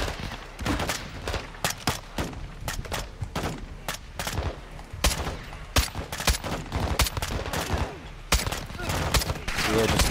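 Dense in-game gunfire from the Call of Duty: Modern Warfare II campaign, with rapid overlapping rifle and machine-gun bursts crackling continuously for the whole stretch, loud and close, while a voice speaks faintly beneath the shooting.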